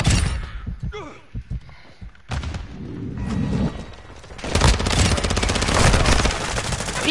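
Gunfire from a gun in a video game, rapid automatic bursts loud and close, mixed with a voice speaking and game effects around them.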